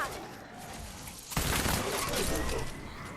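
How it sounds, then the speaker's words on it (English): A loud blast from the Bundlebuss, an eight-barreled assault rifle in Fortnite, bursting abruptly out of steady game noise and leaving a crackling, shattering wash afterward. "Yep, explosion went off."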